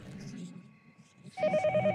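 A telephone rings in the horror game Yomawari: Midnight Shadows, a steady electronic ring that repeats in quick pulses after a quieter stretch, with a low game rumble underneath.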